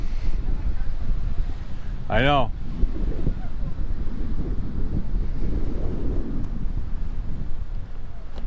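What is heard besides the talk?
wind blowing on a beach boardwalk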